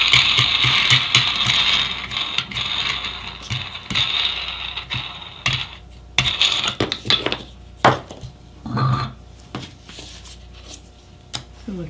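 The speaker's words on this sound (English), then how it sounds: "Once again, I like to loosen these clamps just so it slides on easier." Clamps are loosened on glued wooden segmented layers, giving a series of sharp clicks, ratcheting turns and wooden knocks in an irregular rhythm, close and moderately loud.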